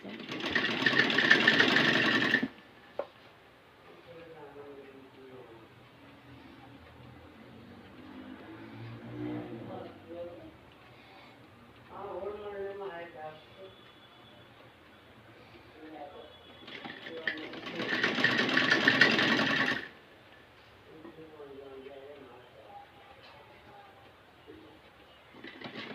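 Sewing machine stitching the lining side of a kurti top's neckline, heard as two loud steady whirring runs of a few seconds each, at the start and again near the end, with quieter handling sounds between them.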